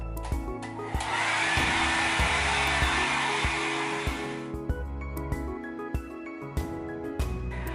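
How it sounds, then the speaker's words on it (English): A hair dryer blows with a steady, loud whoosh for a few seconds, then cuts off, leaving faint clicks and handling noises nearby. "I'm going to blast them with my hairdryer."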